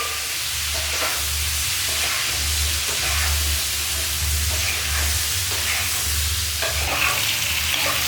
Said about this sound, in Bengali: এবার ভালো করে নাড়িয়ে দিচ্ছি